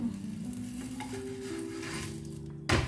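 Aloo sweet potato paratha sizzles steadily on a hot griddle over medium flame, a constant close frying hiss with a few faint clinks and a sharper scrape near the end.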